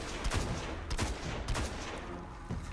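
Scout rifle gunfire in the video game Destiny, during a solo Nightfall mission against Shield Brothers: several loud, evenly spaced single shots ring out over a continuous rumble of battle noise.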